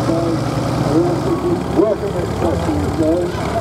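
A restored Nuffield tractor engine runs at a steam and craft show, producing a steady low idling rumble throughout, with outdoor crowd noise and faint voices around it.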